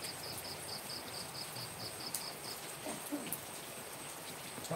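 Steady rain hisses on a holiday evening in Indonesia, a dense continuous wash of falling drops with faint insect chirps pulsing in the background and no voices.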